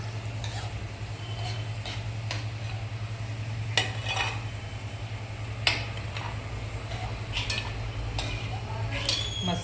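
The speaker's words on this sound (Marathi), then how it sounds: "आता एका भांड्यात आपण काढून घेऊया." Fried cashews being stirred and scooped from a pan into a bowl, with scattered sharp metal clinks and scrapes of a spoon over a constant low sizzle and hum, close up and without talk.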